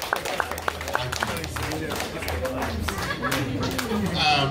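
Scattered audience clapping rises in a jazz club, individual claps standing out against a steady crowd murmur and overlapping chatter from people nearby.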